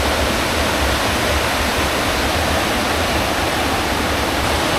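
Lata Berembun waterfall on Gunung Berembun after dry weather, a steady broadband roar of falling water, loud, close and unbroken throughout.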